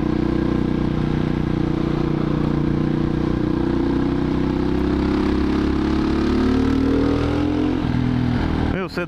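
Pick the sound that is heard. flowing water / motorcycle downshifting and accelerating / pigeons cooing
motorcycle downshifting and accelerating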